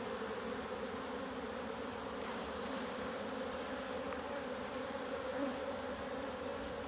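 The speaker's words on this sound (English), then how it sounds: "before I shake the bees off, I'm making sure the queen's not on here" Honey bees buzz steadily over a frame lifted from a backyard hive, a dense continuous hum that stays even and fairly close throughout, with no voices.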